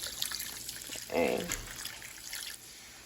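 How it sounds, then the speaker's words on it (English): Water poured a little at a time from a big coffee mug into a cooking pot, a short splashing trickle near the middle, with a brief spoken word before it and kitchen background. "pour a little bit at a time."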